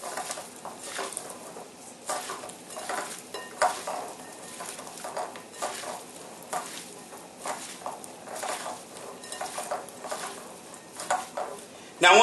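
Potatoes and peppers are stirred and tossed to coat them in a pan, making soft, uneven scraping and shuffling strokes with a faint sizzle underneath, close and moderately quiet.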